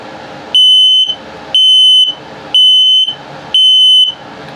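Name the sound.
RV gas detector low battery alarm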